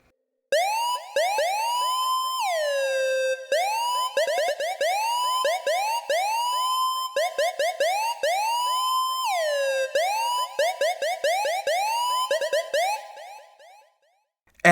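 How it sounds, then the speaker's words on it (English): A synthesized siren in a dub music track wails in repeating rising and falling sweeps, loud and continuous for about thirteen seconds before fading out, with no voices. "Now, since I'm doing a dub track, I had to have a siren in here."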